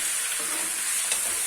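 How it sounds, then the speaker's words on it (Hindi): Chicken pieces frying with spices in a pan, a steady close hiss and crackle of sizzling oil with faint stirring scrapes, continuous and fairly loud, no talk. "देखो कितने अच्छे से हमारा चिकन भून रहा है"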